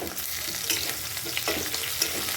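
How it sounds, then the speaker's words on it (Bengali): Jackfruit frying under a lid in a pan hisses in a steady close sizzle, with light spattering pops and faint stirring sounds throughout. "চাপা দিয়ে ভাজলে এটা নরম নরম হবে"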